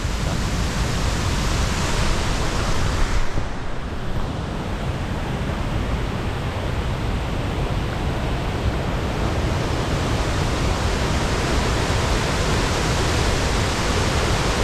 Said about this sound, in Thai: เป็นน้ำตกที่ สวยงามอลังการหลาย